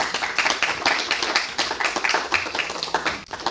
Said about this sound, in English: for the applause